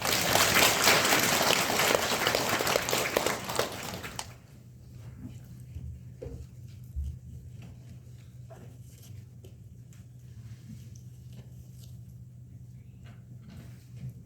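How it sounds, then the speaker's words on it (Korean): A church congregation claps to welcome a pastor to the pulpit: steady, full-room applause for about four seconds, then it stops abruptly and leaves a quiet hall with faint shuffling and a few soft knocks. "박수로 환영합시다"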